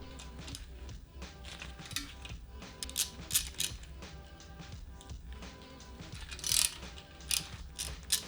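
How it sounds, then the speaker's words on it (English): Ratchet wrench clicking as 10mm bolts and nuts come off the oil strainer of a Toyota 2ZZ engine, steady rapid pawl clicks in bursts with sharper metallic peaks, close and without talk. "Now we take off the oil strainer by removing one 10mm bolt and two 10mm nuts."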